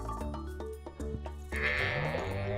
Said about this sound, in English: We've got our barn animals